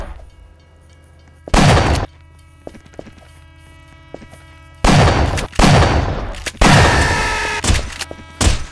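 Glock pistol fire in a video game comes as several loud, broadband bursts, one near the start and a cluster of rapid shots later, over a steady electronic hum.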